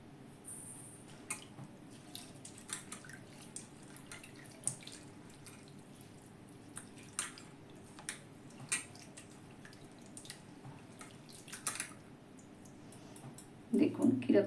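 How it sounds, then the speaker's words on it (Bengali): Sago pearls, a cup each of large and small grains, being rinsed in water two or three times for fritters, giving faint, scattered drips and splashes with brief louder sloshing at the very end. "এটা জল দিয়ে দিয়ে আমি 2-3 বার ধোবো।"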